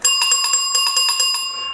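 A small bicycle bell from a little girl's bike, now mounted on mini ATV handlebars, rings in a rapid string of about a dozen bright, metallic dings, loud and close, then fades out.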